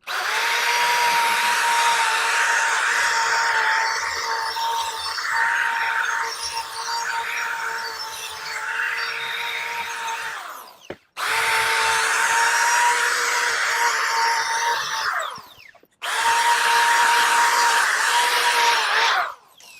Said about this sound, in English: I'm going to take the drill brush next